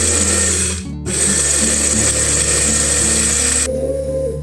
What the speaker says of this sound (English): Continue blending until the dried tomato slices are ground into a fine, fluffy powder with a natural red color and a rich tomato aroma.